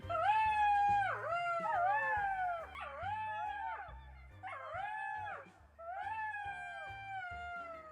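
Several voices imitate a jackal's howl in long rising and falling wails, overlapping in repeated bursts with brief pauses between them, loud and close.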